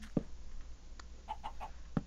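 Chicken in the Minecraft video game clucking faintly, a low cluck at the start and end with a quick run of three short higher clucks between, over a quiet background.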